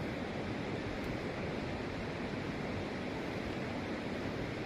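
Flowing river water at night in Graz, Austria, a steady dense rushing wash that stays even and moderately loud throughout, with no voices.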